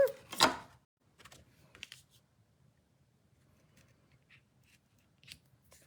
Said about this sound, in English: So if you're cutting, just be mindful of your directional paper.